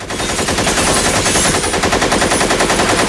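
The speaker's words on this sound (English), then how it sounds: "Machine gun!" Rapid machine-gun sound effect firing in a steady burst of closely spaced shots, loud and continuous for about three seconds, then cutting off abruptly.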